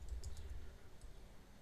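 A handful of quiet, scattered clicks from typing on a computer keyboard, close and with no voices.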